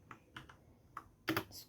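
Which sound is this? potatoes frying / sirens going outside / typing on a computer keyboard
typing on a computer keyboard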